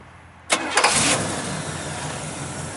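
A 1967 Pontiac GTO with a date-correct 400 V8 cranks briefly and fires, then settles into a loud, steady, rumbling idle close by, with no talk over it.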